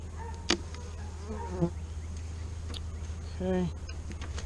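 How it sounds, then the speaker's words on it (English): Honey bees stream out of a hive during an inspection, a steady buzzing drone with a few louder passes close by, under occasional voices. "See a lot of bees coming out already"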